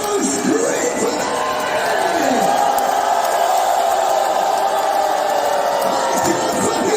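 A rock concert audience in Minneapolis screams and cheers continuously at a tribute show, a loud, dense wall of crowd noise with shouts rising above it.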